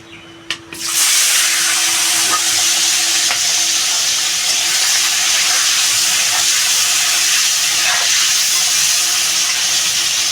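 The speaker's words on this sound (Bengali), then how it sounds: "আমি কড়াইটা বসিয়ে দিয়েছি তেলও দিয়ে দিয়েছি আমি চিংড়ি মাছটা" Prawns hit hot oil in a kadai, bursting into a loud, unbroken hiss and crackle that holds steady and close for about ten seconds after a brief quiet start.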